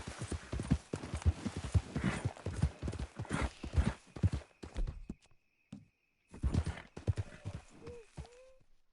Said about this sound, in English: Esse é um puro sangue inglês.